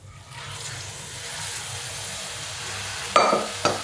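Cooked rajma is poured into the hot fried gravy, a soft steady sizzle followed by two sharp liquid splashes and clatters near the end, with no talking.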